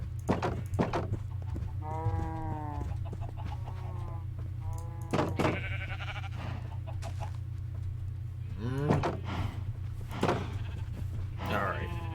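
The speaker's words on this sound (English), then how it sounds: "Now I'm going to try to lead some sheep away" Minecraft sheep bleat in repeated wavering calls over a steady low game hum, with clucking chickens and sharp clicks mixed in nearby.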